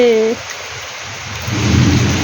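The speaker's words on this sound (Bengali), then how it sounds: "ভালোই বৃষ্টি নেমেছে" Steady rain hisses throughout, with a brief voice at the very start and a low rumble swelling toward the end.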